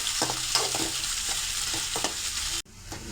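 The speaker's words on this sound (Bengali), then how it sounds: "ভালো করে নেড়ে করে লাল লাল করে ভেজে নেব" Spice paste frying in hot oil as it is stirred, a bright steady sizzle with intermittent scraping strokes, then an abrupt cut to a quieter hiss.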